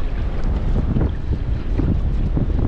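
Steady wind buffets the microphone outdoors while fishing from the shore, a continuous low roaring rumble with gusty surges and no voices.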